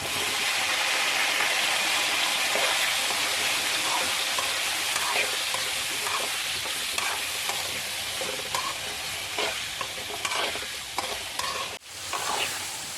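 Bilimbi (irumban puli) pieces frying in hot oil for pickle, giving a steady, close, continuous sizzle with a few stirring scrapes, no talk over it.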